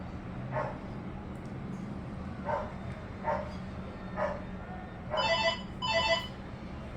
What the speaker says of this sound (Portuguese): Vai tocar aqui